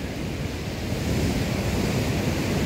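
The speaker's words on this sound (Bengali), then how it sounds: "মাঝে মাঝে যে ঢেউগুলো আসছে না সেগুলো কিন্তু বেশ ভয়ঙ্কর।" Ocean waves at Baina Beach in Goa roll in as a steady, loud, continuous roar of surf with a heavy low rumble and no voices.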